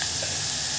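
A brief, steady sizzle of green chillies and onions sautéing in a pan for gongura dal, close and even with no stirring strokes.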